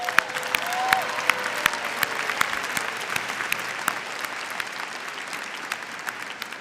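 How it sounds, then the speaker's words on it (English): Steady audience applause at a university spring commencement ceremony, dense clapping from a large crowd sustained for several seconds and gradually thinning toward the end. "Let's give him a round of applause."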